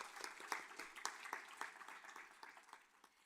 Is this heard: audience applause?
yes